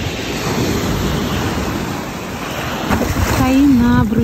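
Sea waves rolling onto the shore by a pier, a broad steady rush of surf with wind buffeting the microphone, and a voice briefly speaking near the end.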